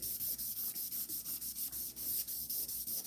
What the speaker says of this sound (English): I like to take something and just kind of like rub it in while it's still hot